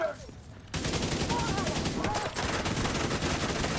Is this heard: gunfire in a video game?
yes